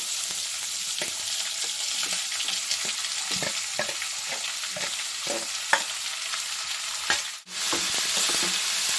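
Chillies and carrots fry in hot oil in a pan while being stirred, giving a steady close hiss with repeated scraping clicks of a spatula and a brief sharp knock near the end; no one speaks.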